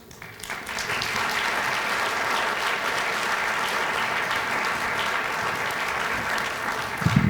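Warm sustained applause from an audience at a labor union retirement celebration, rising quickly into a dense, steady clatter of many hands that holds for several seconds before tapering slightly.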